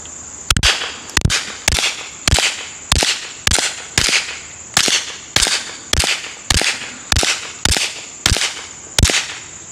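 A small handgun fires about fifteen sharp, loud shots in a steady, evenly spaced rhythm, with no talking.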